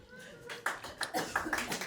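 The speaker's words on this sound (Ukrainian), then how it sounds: "Це оплески від водіїв" A stand-up comedy audience gives a short burst of scattered clapping that builds over a couple of seconds, with voices mixed in.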